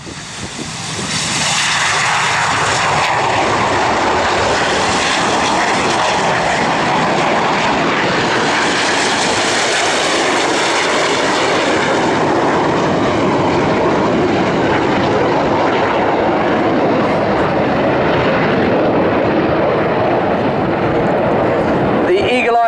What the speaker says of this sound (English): I'll let you hear the jet noise.